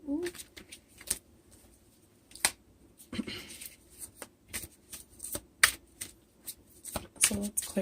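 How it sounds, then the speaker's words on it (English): Tarot cards are shuffled and pulled from the deck close up in a quiet room, making a series of sharp riffling snaps and flicks in uneven bursts. Brief soft voice sounds come in between them. "I am going to pull some clarifying cards."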